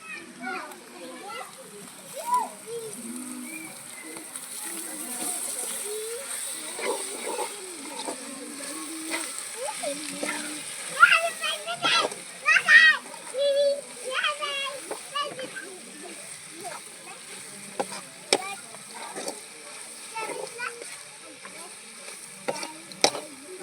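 Food sizzles and fries in a pan while a spoon stirs and scrapes through it as fresh coriander leaves are added, clinks and scrapes coming at irregular intervals beneath steady speech.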